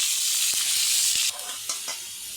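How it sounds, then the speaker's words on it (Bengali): Long strips of cut potato fry in hot oil with a steady, bright sizzle, a few soft clinks of a utensil breaking through before the hiss drops lower and calmer partway through. "আমি মাছে এই যে আলু কেটে রেখেছি লম্বা লম্বা করে, এরকম করে ভেজে নেব।"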